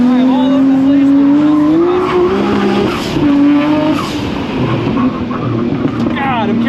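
A Nissan Skyline GTR is driven hard around a race track, its engine droning at high revs and rising through the rev range while tires squeal, with someone talking loudly over the noise.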